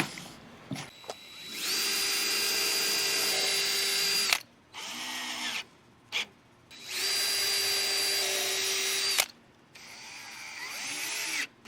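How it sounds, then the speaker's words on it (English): A power drill pre-drilling holes in plywood near the edge for a camper bed build, heard as two long, steady whining runs of several seconds each, separated by brief starts and stops, loud and close. "I'm actually gonna pre-drill these holes because I'm gonna be screwing in super close to the edge of the plywood"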